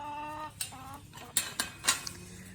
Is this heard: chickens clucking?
yes